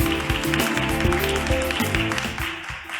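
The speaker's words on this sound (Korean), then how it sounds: "대표님을 박수로 모시겠습니다" Audience applause welcoming the CEO of a laser medical technology company onstage at a business forum, a dense continuous wash of clapping holding steady for about three seconds before easing slightly at the end.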